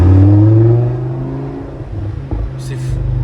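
A convertible car more than ten years old revs its engine up loud and close, then drops to a lower, uneven idle-like rumble with a few more throttle blips toward the end.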